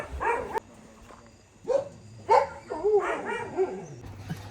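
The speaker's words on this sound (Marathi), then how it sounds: "इकडे कुत्री" Dogs bark in short separate yips and bow-wows, several bursts spread over a few seconds, at moderate distance on a quiet night.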